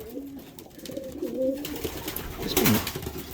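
A breeding pigeon coos nearby in a loft, several soft throaty calls over rustling, ending in a louder burst of flapping or scuffling; no speech.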